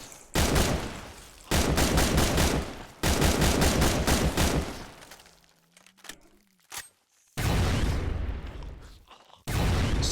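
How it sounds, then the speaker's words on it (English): A sonic weapon firing in a Minecraft Manufactio modpack game gives long, loud, broad roaring blasts, each lasting about a second or more, separated by brief quieter gaps with small clicks and a faint tone. "The sonic weapon is pretty decent,"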